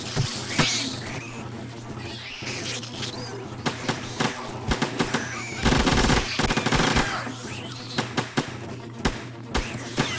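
Gunfire in the zombie survival game 7 Days to Die: rapid bursts of shots crackle in clusters, loudest around the middle, over a busy game background with scattered bangs.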